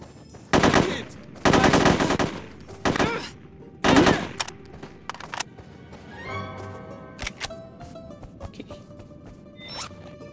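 Loud, rapid automatic gunfire comes in several sharp bursts in the video game No One Lives Forever 2, followed by quieter clicks and game sounds in a snowy setting.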